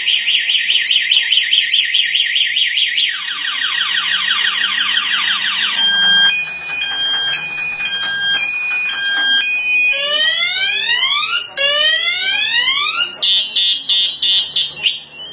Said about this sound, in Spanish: Si digamos nos abrieran el switch de la moto, pues ella se va a disparar de corrido y no la va a dejar encender.